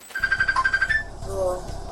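A telephone rings indoors, a quick series of electronic trills repeating for about a second before cutting off, followed by a faint low tone.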